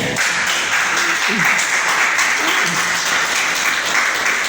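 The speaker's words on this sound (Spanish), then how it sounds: "¿Cuántos dan un aplauso a Jesucristo?" A church congregation applauds in a sustained, dense wash of clapping that stays even and loud from start to finish, with a few voices mixed in under it.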